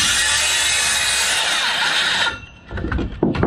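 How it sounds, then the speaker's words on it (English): A circular saw rips along a wall stud to cut wood blocking during 16-inch-on-center wall framing, a loud steady whine for about two seconds that stops abruptly, followed by a few softer handling knocks. "set your saw up just like this"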